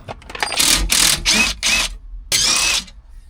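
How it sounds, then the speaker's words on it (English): Bolts are being taken off the top shield of a Ford Transit camper van with a powered tool, heard up close as four short whirring, ratcheting bursts, a brief pause, then one more burst. "We just need to take these bolts off here and take the shield off the top."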